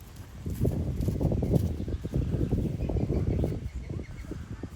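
Hooves clop steadily on the ground as a horse walks close by, an uneven rhythm of thuds over light background noise.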